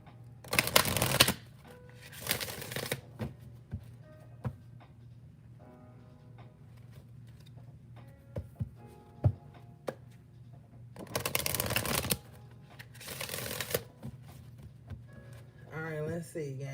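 Crisp, never-used tarot cards from a 2018 deck riffled and shuffled in several loud bursts, separated by quieter stretches of card handling and soft talk nearby.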